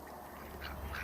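Farm ducks quack a couple of times near wet ground, the calls faint against a steady background noise.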